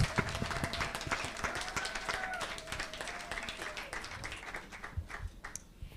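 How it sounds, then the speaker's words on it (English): Applause from the audience at a high-level intergenerational dialogue on climate adaptation in Nairobi, with dense steady clapping throughout, a voice and cheering over it. "And a big applause for Graça Michel, Deputy Chair of the Elders."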